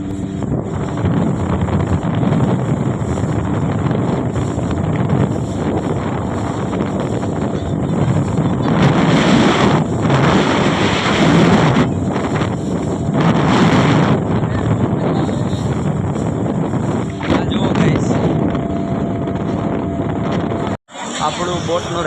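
A boat ride on the sea near Dwarka, with steady engine drone, water wash and strong wind buffeting the microphone throughout, ending in a brief dropout.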